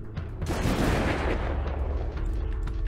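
Rifle fire from the zombie survival game Dead Age 2, a dense, continuous roar of loud gunfire blasts with no pause and no talking.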